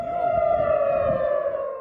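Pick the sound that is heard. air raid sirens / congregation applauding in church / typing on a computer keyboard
air raid sirens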